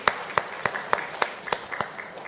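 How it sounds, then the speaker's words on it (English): Applause for panelists at a live career conversation event, sparse and fairly faint, with a handful of distinct claps spaced at a steady rhythm over a couple of seconds. "a bigger round of applause for our panelists."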